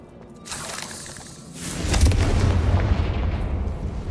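A Confringo fire spell blast cast in Hogwarts Legacy, a sharp crackling burst followed by a heavy rumbling explosion that rolls on for a couple of seconds, loud with no voices.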